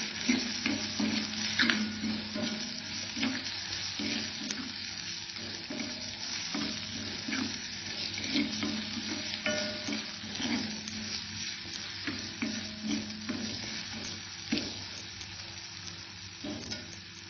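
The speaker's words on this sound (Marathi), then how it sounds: "आलं लसूण आणि टोमॅटोचा कच्चटपणा जाईपर्यंत हे छान परतून घ्यायचं आपल्याला" Ginger-garlic paste and tomato sauté in a small amount of oil for a black chicken curry, a continuous close sizzle broken by repeated scraping stirs of a spoon against the pan.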